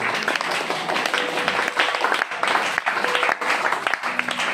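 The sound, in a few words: church congregation applauding and cheering for the Lord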